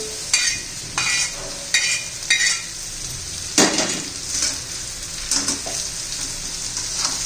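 Raw banana vegetable stirred and fried in a pan: steady sizzle with repeated scraping strokes of a spoon against the pan, close and fairly loud, with no talking.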